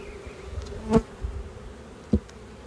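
Honeybees buzz quietly at an open hive during an inspection, with two brief louder passes of a single bee flying close by.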